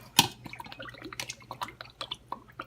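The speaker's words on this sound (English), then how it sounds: "First thing I'm gonna do a little bit of Worcestershire sauce." Worcestershire sauce is poured onto steak, giving a sharp splash followed by a few seconds of soft, close wet drips and small squishy sounds.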